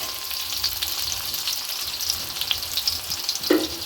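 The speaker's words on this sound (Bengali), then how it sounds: "অমলেটটা আমার ভাজা ভাজা হয়ে গেছে সুন্দর করে ভেজে নিয়েছি" An omelette fries in a pan with a steady, moderately loud sizzle and a few soft scraping clicks, ending with a brief clunk.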